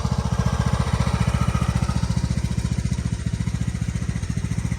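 An old tractor engine runs steadily nearby, a fast, even low-pitched chugging pulse that holds through the whole stretch with no talk over it.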